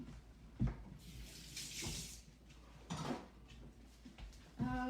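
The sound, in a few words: washing hands under a running tap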